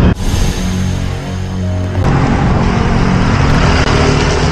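Loud, steady road traffic on a busy holiday street, with a continuous rumble of passing cars and engines filling the whole stretch.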